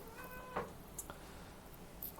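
A house cat gives a brief, faint meow in a quiet room, followed by a couple of soft small sounds.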